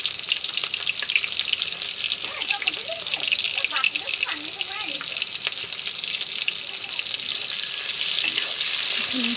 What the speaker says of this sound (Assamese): তেল গৰম হৈ গ'ল, পিঁয়াজ আৰু নহৰু দি দিছোঁ।